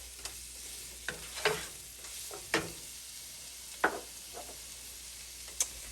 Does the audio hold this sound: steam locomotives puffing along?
no